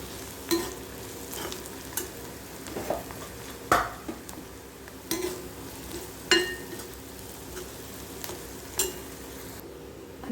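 Vegetable masala mixture with biryani masala and red chilli powder being stirred in a frying pan, a steady sizzle broken by repeated scraping and clinking strokes of a spoon about every second, close and alone.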